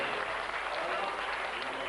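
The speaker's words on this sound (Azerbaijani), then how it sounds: "deyirəm bayrama alqışlayək" Steady applause at a wedding in Lankaran, Azerbaijan, a crowd clapping for a guest named Bayram, dense and even throughout without pause.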